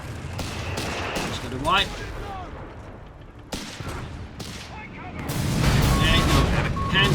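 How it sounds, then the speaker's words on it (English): Artillery bombardment in the WWII strategy game Company of Heroes 3, with booming impacts and crackling gunfire coming in bursts under a commentator's steady talk, building to a heavy, sustained barrage toward the end. "We've got Einstein bombarding the position."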